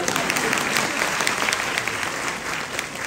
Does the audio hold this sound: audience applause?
yes